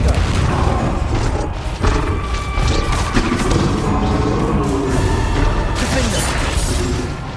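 Explosive Confringo spells burst in Hogwarts Legacy combat, with repeated loud crashes and impacts rolling over steady battle noise. Several blasts come close together.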